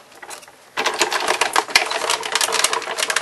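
A plastic bag end clamped in an embossing folder being cranked through a manual embossing machine for a Christmas pudding bag craft, a sudden onset of close, rapid ratcheting clicks that continue steadily.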